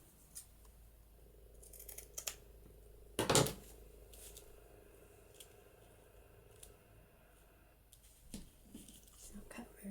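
Scissors cut through lace in a quiet craft setting, with soft snips and one louder crunching cut near the middle, while someone talks quietly in the background.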